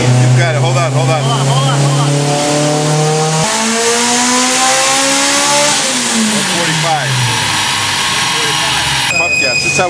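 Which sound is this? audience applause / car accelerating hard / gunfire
car accelerating hard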